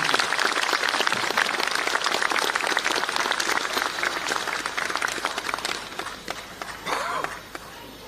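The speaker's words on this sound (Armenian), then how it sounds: "բուռն ծափերով ողջունել" Enthusiastic applause rings inside St. Anna church during a speech. Many hands clap rapidly in a thick, crackling texture that holds for several seconds, then gradually thins and softens with a few last scattered claps.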